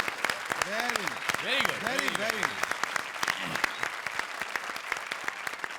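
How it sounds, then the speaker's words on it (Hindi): Studio audience applause on a Hindi TV comedy show, a dense steady roar of clapping with a voice singing or talking over it early on. "जोरदार तालियां"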